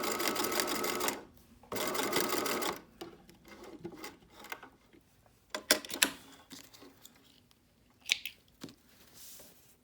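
Sewing machine stitching elastic swim binding on a Banksia swimsuit: two close bursts of rapid whirring, then shorter intermittent runs and clicks as the fabric is adjusted.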